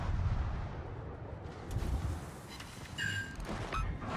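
Torpedo hits in the naval video game World of Warships land as deep, rumbling booms and rolling explosions, with a faint bright tone near the end and no talking.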